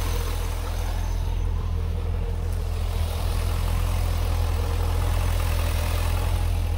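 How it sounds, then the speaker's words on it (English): A 2004 Chevrolet Corvette engine idles steadily and smoothly, a constant low rumble up close with no other sounds. "engine's nice and quiet, no funky noises"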